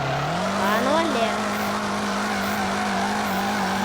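Drifting car in the FR Legends video game, a steady sustained engine drone with a rising and falling squeal as the car slides, continuous and loud throughout with a voice faintly talking underneath.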